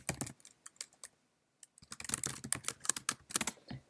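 Java code typed on a computer keyboard, with scattered key clicks, a short pause, then a faster burst of close, crisp keystrokes.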